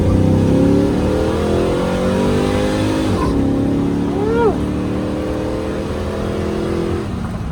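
Modified Chevrolet Silverado truck with a catted exhaust, its engine revving loud and close through a steady rumble, rising and falling over several seconds with a brief dip midway and no talk.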